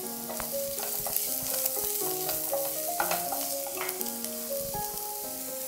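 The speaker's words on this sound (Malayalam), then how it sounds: "സവോള വാടാൻ നമുക്ക് ഇങ്ങനെ അടുപ്പത്ത് വയ്ക്കണം" Chopped onion sautéing in coconut oil in a pan on the stove, a steady sizzle with soft stirring scrapes running continuously, close and moderately loud, no voices.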